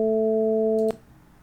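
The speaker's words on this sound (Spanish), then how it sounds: "nos remite a cuando hacíamos una llamada y el teléfono estaba ocupado" A synthesized telephone busy tone made with AM synthesis, a steady buzzing chord that holds for about a second and then cuts off sharply, leaving quiet room noise.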